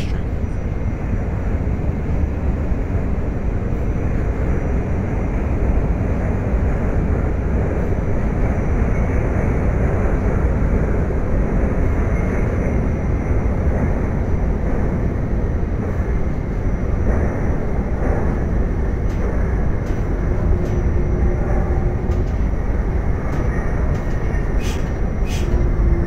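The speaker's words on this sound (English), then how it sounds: "This is a Brooklyn-bound N train" R68 subway train on a Brooklyn-bound N run to Coney Island, simulated in the OpenBVE train game, rumbling steadily and loudly throughout with constant wheel and motor roar and occasional faint clicks.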